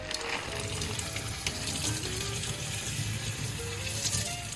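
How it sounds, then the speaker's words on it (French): Running water splashes steadily over about 250 grams of split peas being rinsed, a continuous close hiss with no voices. "Je vais déjà rincer les pois cassés, je vais en utiliser environ 250 grammes."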